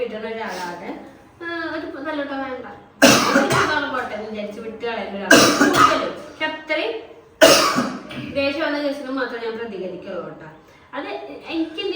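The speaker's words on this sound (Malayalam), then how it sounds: "ഛർദിയുടെ പ്രാരംഭ ഘട്ടങ്ങൾ ഈ ചുമ വരും" A person coughs in the early stage of nausea: three sharp, loud, close coughs about two seconds apart, set among ongoing talking.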